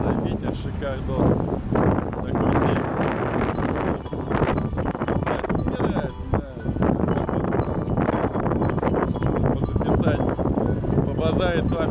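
Strong wind buffets the microphone continuously while a person talks over it.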